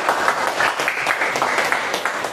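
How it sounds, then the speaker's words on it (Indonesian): A class of students claps hands together in a classroom, a dense steady burst of applause lasting a couple of seconds. "Oke, tepuk tangan dulu kita."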